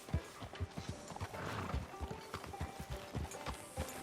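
Horse in the Red Dead Redemption 2 video game, with a few soft snorts and hoof clops scattered over a busy, moderately loud backdrop of game ambience.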